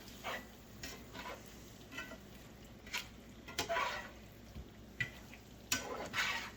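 Noodles being mixed with ground meat in a pan for a keto lasagna bowl, heard as soft, intermittent scraping and stirring strokes over a faint sizzle, fairly quiet and close.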